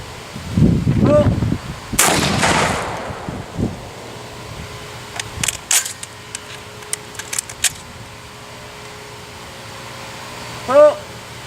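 Shotgun blasts at clay targets on an outdoor range, a loud crack near the start followed by smaller distant pops and clicks, with people exclaiming around the shots.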